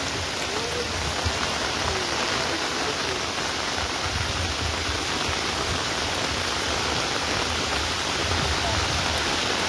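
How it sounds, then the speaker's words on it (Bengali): Heavy rain pours steadily at an outdoor fishing pond, a dense, even hiss of drops on water and surfaces filling the whole stretch with no pauses and no talk. "যা বৃষ্টি আজকে।"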